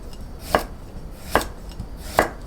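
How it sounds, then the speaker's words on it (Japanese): A knife slicing carrots thinly on a cutting board for a burdock salad: three crisp, evenly spaced chops over a couple of seconds, close and clear, with no voices. "人参を薄切りにしていきます。"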